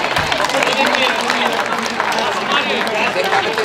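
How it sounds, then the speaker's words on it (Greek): Spectators applaud the winner at a disability athletics meet, a dense burst of clapping with cheering and chatter mixed in, close and fairly loud. "Χειροκρότημα για τον νικητή."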